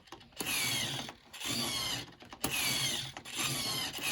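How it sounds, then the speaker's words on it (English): A slow steering servo on a rare MRC/Sammo Toy Road Winner RC car whirs in about three separate mechanical bursts, each a grinding, gear-driven buzz broken by brief quiet pauses, heard up close and alone. "It's got a very slow servo in there, but it is fully proportional"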